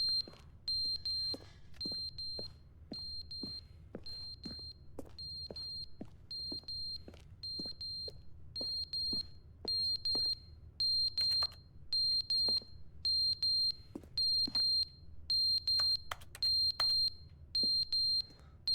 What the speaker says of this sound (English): Smoke detector. Make it stop.